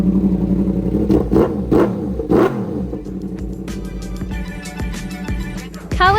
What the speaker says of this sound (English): Yamaha YZF R1. Inline for Crossplane engine sound check.